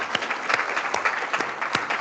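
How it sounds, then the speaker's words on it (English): Applause from an audience at a Python education and tech event, steady and full, with clustered handclaps filling the whole two seconds, fairly close and alone without talk. "And I think we can have a round of applause for Dan."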